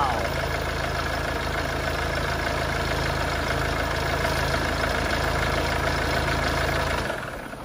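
A 2013 Mercedes-Benz C250 CDI diesel engine idles steadily and loudly up close with a low rumble and clatter, running after a fuel injector return flow test with an injector fault, then cutting off abruptly near the end.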